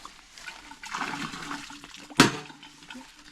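A homemade water-powered device in a village drops once it fills with water and strikes below. Gurgling, trickling water builds up and ends in a single sharp knock, followed by a softer splash of water.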